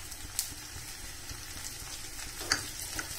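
Ingredients saute gently in a pan before onion goes in, giving a soft continuous sizzle at low volume. Two light clinks of a utensil against the pan break it, and no one speaks.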